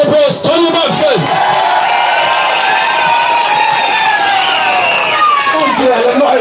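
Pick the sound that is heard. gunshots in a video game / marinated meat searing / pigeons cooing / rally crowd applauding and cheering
rally crowd applauding and cheering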